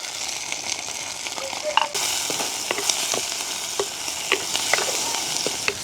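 Onions and green chillies fry in a pan while a spoon stirs them. A bright, continuous sizzle carries frequent sharp scrapes and clicks from close by.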